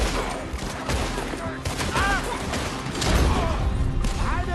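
Dense, rapid gunfire from several weapons in a Western shootout in Red Dead Redemption 2, a sustained barrage of shots and thuds layered over background voices.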